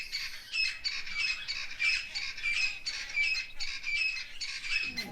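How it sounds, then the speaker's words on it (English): Starlings, babblers and francolins call around a safari camp in the Manyeleti Game Reserve, with repeated bright squawks and chirps in near-continuous overlapping bursts, moderately close and clear against a quiet background. "listening to the birdsong in camp, dozing off to the sound of starlings,"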